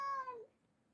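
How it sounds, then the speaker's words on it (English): One short, high, strained meow from a cat, close and clear, falling off into quiet within half a second. "I never heard him meow like that."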